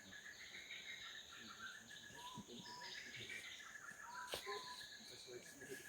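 Birds call in Mabira forest, Uganda: soft scattered whistles and chirps sound at a distance over a constant hum of insects, with a few brief sharper notes.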